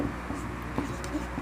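Chalk or marker strokes scraping on a classroom board during a science lesson, faint scratchy bursts recurring over a steady noisy room hum.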